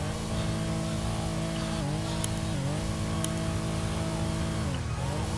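A Daihatsu Terios 2020 mod in GTA 5 holds a steady engine drone with a few short revs rising and dipping, loud and close, with no talk over it.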